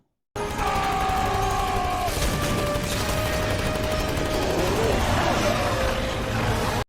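Fallout New Vegas gunfire, rapid bursts crackling over game music and sustained tones, loud and continuous, with a narrating voice partly mixed in.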